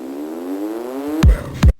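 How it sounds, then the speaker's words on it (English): Layered risers in an electronic music build-up: a rising synthetic sweep climbs steadily for over a second, then gives way to two heavy, punchy low hits near the end, loud and with no voices. "Here I just layered a couple risers."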